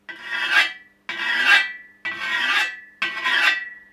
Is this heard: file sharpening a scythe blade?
yes